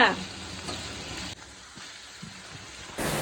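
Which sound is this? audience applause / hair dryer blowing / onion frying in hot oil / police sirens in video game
onion frying in hot oil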